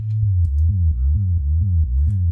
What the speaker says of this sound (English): So very subby sine wave.